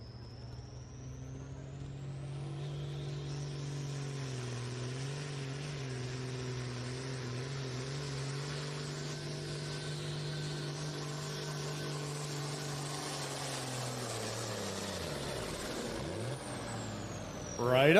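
A tractor engine at a kids night truck and tractor pull runs loud and sustained, its steady drone shifting in pitch before dropping off near the end, with no talk over it.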